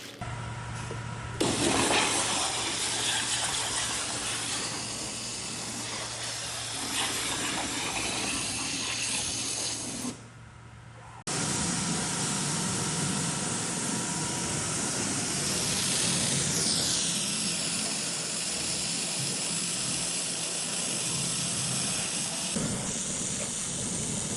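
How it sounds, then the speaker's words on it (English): An abrasive water jet cutter slices through metal parts for a high-speed 3D printer, giving a loud, steady high-pressure hiss and roar that cuts out briefly near the middle and then resumes, with a shifting whine later on. "some footage of the water jet going to town on these parts"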